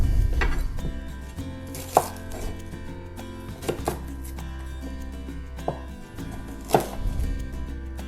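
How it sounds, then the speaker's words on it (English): Onion and capsicum chopped on a board with a knife, in a steady run of sharp close thuds spaced about a second apart over low background hum, without any talk. "cut up my onion, cut up my caps"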